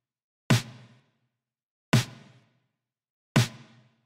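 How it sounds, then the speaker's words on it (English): A mono snare drum sample struck three times at an even, unhurried pace, each hit a crisp, punchy crack with a short decaying tail, alone with no other sound. "The next thing here is a snare, which sounds like this."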